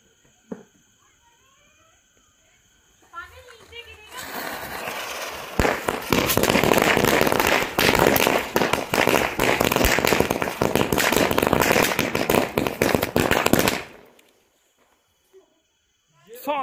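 Rapid crackling bursts of Diwali firecrackers pop in a long dense string for several seconds, then cut off abruptly into near silence.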